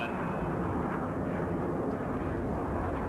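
The Blue Angels jet formation roars past at a military air show, a broad, steady, distant jet rumble filling the air without a break.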